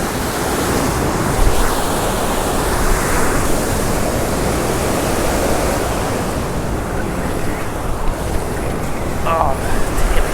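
Ocean surf breaks continuously at an Okaloosa Island beach where someone is surf fishing, a loud, steady wash of waves filling the whole stretch, with a voice speaking over it.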